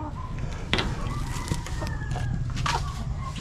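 Boston Hatch chickens, gamefowl, crow and cluck nearby in short overlapping calls, with one crow drawn out over a steady farmyard background.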